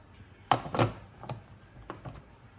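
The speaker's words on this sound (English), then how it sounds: "I'm just going to drop the banana pieces in." Pieces of banana are dropped into a blender jar while making breakfast, landing as a few soft, close thuds spread over a couple of seconds in an otherwise quiet kitchen.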